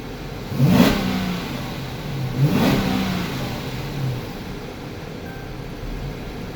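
Dodge Charger Pursuit with a freshly swapped 392 cam idling while warm, a low steady engine drone that swells in two brief surges before settling back to a rough, even idle.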